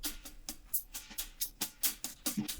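Hi-hat cymbals tick in a steady, fast rhythm, crisp bright hits played alone with slight accents on some strokes.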